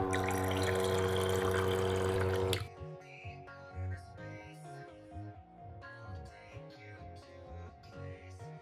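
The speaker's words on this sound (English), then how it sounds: "The pump removes a lot of carbonation from the sodas because the liquid has to pass through the motor" A small electric pump in a homemade soda dispenser whirs steadily as it pushes soda through its motor for about two and a half seconds, then cuts off abruptly, followed by softer tonal sounds.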